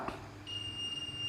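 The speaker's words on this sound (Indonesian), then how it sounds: "kalau kondisi kabel ini tidak putus, buzzer akan mengeluarkan suara" A multimeter's continuity buzzer gives a thin, steady high-pitched tone when its probes touch an unbroken cable, starting partway in and holding to the end, faint and close.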